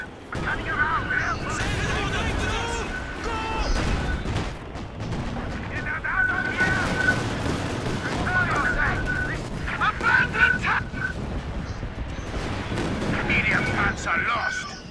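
Company of Heroes 2 battle with mortar blasts and gunfire, booming explosions and rattling shots layered continuously over several seconds, with soldiers' voices shouting throughout.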